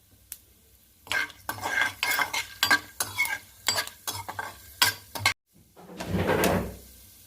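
Mustard seeds, chana dal and urad dal sizzle in hot oil in a pan, with repeated spoon scrapes and clinks over several seconds, a brief pause, then a louder burst of frying.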